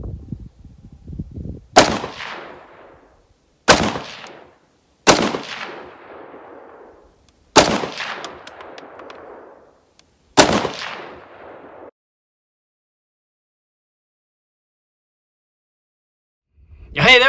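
A Springfield Armory M1A Socom 16 rifle fires five sharp, loud single shots at spaced intervals, each ringing briefly off steel targets at range, with no talk.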